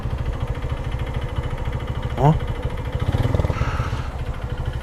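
A 150cc motorcycle engine idles close by with a strange noise, a steady low throbbing pulse that runs throughout, broken briefly by a short spoken exclamation.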